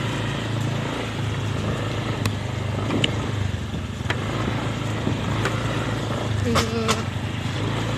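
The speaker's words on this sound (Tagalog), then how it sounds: "Kagot-kagot ang motor." A motorcycle engine drones through a joy ride on rough roads in Cebu province, a steady low rumble with wind noise while people talk over it.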